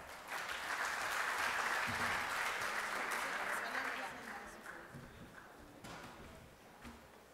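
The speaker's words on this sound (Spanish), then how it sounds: "un aplauso para ella, por favor" Audience applause at a port and container industry forum welcomes a speaker, a broad steady wash of many hands clapping at moderate distance that fades gradually toward the end.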